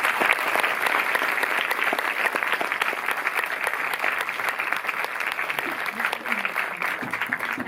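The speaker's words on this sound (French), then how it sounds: "On peut les applaudir d'ailleurs." A cinema audience at a film premiere screening applauds steadily and warmly, a dense, even clapping that holds throughout and eases only slightly toward the end.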